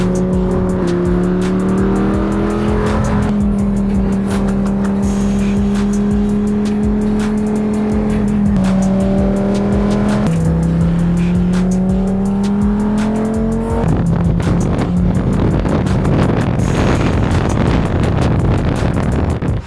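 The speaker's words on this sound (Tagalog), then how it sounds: "magdadrive ba tayo sa baybayin dahil nasa Lamborghini ako" A Lamborghini sports car drives along a coastal road, its engine droning loud and close with pitch climbing through each gear before dropping at shifts, ending in a rougher, louder surge.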